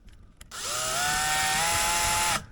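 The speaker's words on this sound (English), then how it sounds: "I don't seat the screws all the way down with my drill" A cordless drill drives screws into a Blum hinge on a 25-year-old kitchen cabinet. After a faint knock, one steady high whine rises and holds for nearly two seconds, close and loud, then cuts off sharply.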